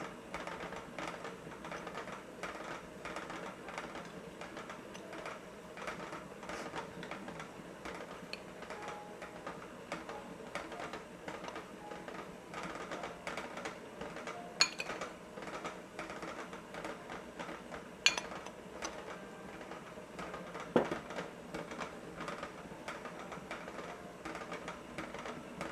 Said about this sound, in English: we turned up the mixer just a little bit so we can speed up that process